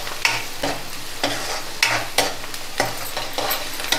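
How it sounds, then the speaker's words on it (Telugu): Sliced onions fry with salt in a hot pan, a steady close sizzle broken by regular scraping stirs about every half second to second, with no voices. "ఇదిగోండి ఉల్లిపాయ వేగింది."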